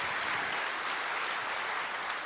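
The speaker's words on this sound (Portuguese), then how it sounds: "aplauda o Senhor" A church congregation applauds during a sermon, a continuous wash of many hands clapping, fairly distant and even throughout.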